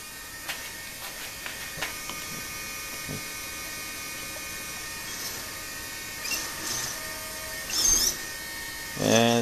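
Two RC servos, a Turnigy 1258 and a Savox 1258, strain under load with a faint, steady electric whine and occasional ticks and clicks, getting briefly louder near the end.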